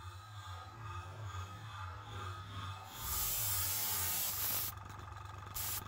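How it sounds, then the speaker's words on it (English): Compressed air sprays in a steady hiss over a steady low hum at a miniature painting bench, turning loud and continuous partway through and then pulsing in short bursts. "I didn't spray them with actual paint, that was just a bit of compressed air."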